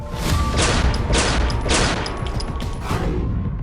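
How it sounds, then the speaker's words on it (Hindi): Dense, continuous crackling gunfire, loud and sustained, with rapid overlapping shots and no pauses, from an attack on a politician's convoy. "बीएसपी विधायक राजूपाल को कई गोलियां लगीं"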